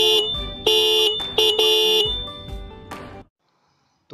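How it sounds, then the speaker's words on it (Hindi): A pair of relay-wired motorcycle horns blare together in several loud, close honks of uneven length, then cut off into silence. "तो अब एक बार अपन चेक करते हैं कैसे बजते हैं हॉर्न।"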